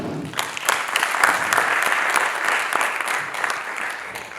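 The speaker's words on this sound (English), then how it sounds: "Ladies and gentlemen, a round of applause, please, for Yovanka." An audience at a literary festival session in Nairobi gives warm, continuous applause, close and full, with individual sharp claps standing out through the steady wash.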